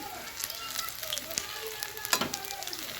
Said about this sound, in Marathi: भाजी सगळं आता तळून घेऊया चांगलं